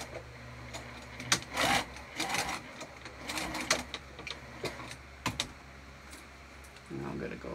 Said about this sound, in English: I'm going to stitch this on in a couple places.